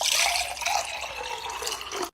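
Cold water poured from a tap, a steady broadband splashing and trickle running close by for about two seconds, slightly stronger at the start, with no voices over it.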